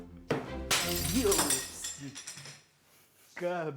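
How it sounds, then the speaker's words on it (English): A glass blender jar slips from someone's hands and smashes on a hard floor, a sudden loud crash with scattering shards followed by startled voices talking nearby. "The jar slips out of my hands and smashes to pieces."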